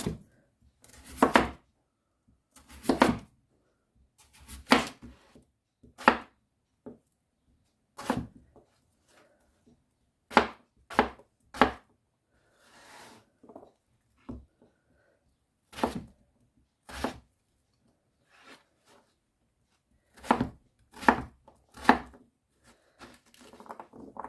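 Potatoes being diced with a knife on a chopping board: sharp, irregular knife thunks, some in quick pairs and bursts and others spaced out, close up and alone in a quiet room.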